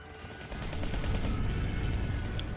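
Bombing attack effect in the card game KARDS, heard as a steady rumbling barrage of rapid explosive blasts and gunfire-like bursts, loud and continuous throughout with no talk.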